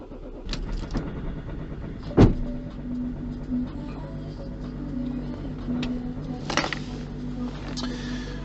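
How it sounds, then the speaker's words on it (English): A car is started during a battery jump-start check: a sharp cranking burst, then a steady low engine idle with a tonal hum, with a few clicks and a person talking. "the first thing you need to do is start the car"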